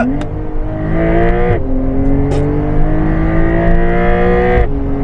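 A Porsche 911 (992) Carrera 4 GTS with PDK gearbox and 480 hp accelerates hard on a cold road. The loud engine climbs steadily in pitch, broken by two quick upshifts.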